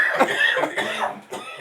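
A person coughs after laughing hard, several close, loud raspy bursts in a rough rhythm, breathy and strained.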